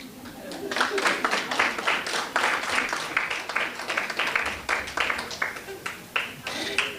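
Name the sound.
audience clapping to welcome a funder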